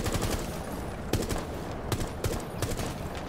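Video game gunfire in a competitive shooter: rapid, steady automatic shots rattle continuously for a few seconds, close and fairly loud, with a few sharper individual cracks standing out.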